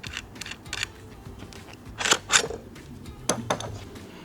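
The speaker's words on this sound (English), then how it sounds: "you're going to take your wrench and you're going to grab the axle, hold it in place, and loosen the nut on the other side" Metal clicks and ratcheting clinks of a wrench loosening a nut on the axle of a Milwaukee Packout cart, a few brief close taps spread across a quiet background.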